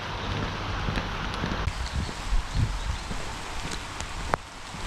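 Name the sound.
heavy rain on a bike path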